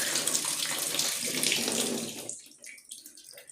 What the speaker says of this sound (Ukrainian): Ну, і треба буде злити воду.